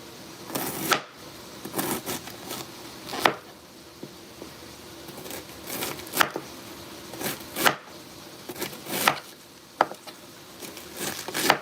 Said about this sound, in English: taking out that core, and start chopping away.